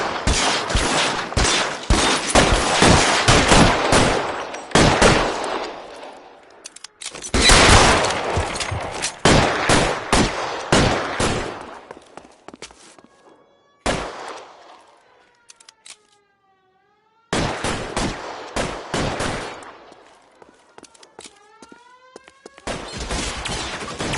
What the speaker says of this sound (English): Lay down some cover and fire.